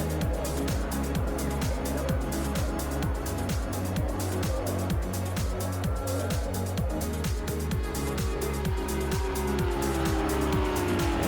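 Race cars from the rFactor 2 racing game at Road America, GTE and GTC classes in multi-class traffic, roaring steadily with rising and falling engine pitch and repeated gear changes, loud and continuous, with tire squeal under a commentator's voice.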